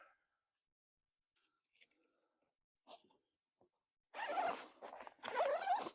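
Big double zippers on an anglerfish costume are unzipped, two long rasping pulls close to the mic after a few faint handling clicks and rustles.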